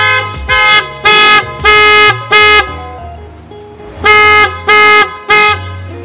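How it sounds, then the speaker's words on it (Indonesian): A Toyota Calya's newly installed aftermarket car horn honks loudly and close by, seven blasts in two bursts, with a short pause between the groups. "sekarang kita coba dengerin suara klaksonnya yang tadi kita instalasi."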